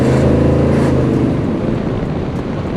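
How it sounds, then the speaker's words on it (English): A Ferrari passes close by with a loud, steady engine roar that eases slightly as it goes, heard from inside another car on a Sunday cruise, with no talking. "There's a nice little Ferrari just drove by us."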